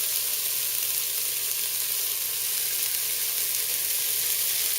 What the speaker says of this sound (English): Saute the onions in your hot pan with hot oil.